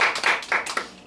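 A church congregation claps during a Korean sermon: a short, loose burst of several hand claps, fairly close, with no talking over it.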